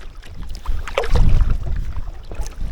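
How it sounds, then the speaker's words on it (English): Wind gusts over open water during an inflatable kayak paddle along the Great Glen Canoe Trail between Laggan Lock and Fort Augustus, a steady low rumble of buffeting that swells in the middle, with faint water and paddle sounds. "Bloody wind's picked up."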